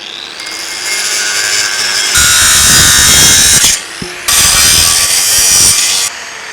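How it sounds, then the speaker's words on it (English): A Makita 7-inch angle grinder cuts through wooden floor joists in two long, loud, harsh bursts, up close, with a short pause between them and a lower whirr at either end. "if you're wondering what grinder I'm using, this is a Makita 7-inch"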